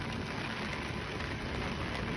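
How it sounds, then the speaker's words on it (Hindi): Steady, dense rain hisses continuously, a soft even wash of falling water with no other sounds. "ये देखो भाई क्या बढ़िया बारिश आ रही है भाई"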